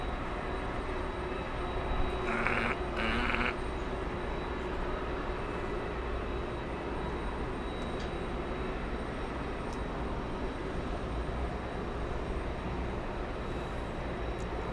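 An Icelandair passenger jet roaring down a JFK runway on takeoff, heard as a steady, faint, distant rumble that holds evenly throughout without any sharp peaks.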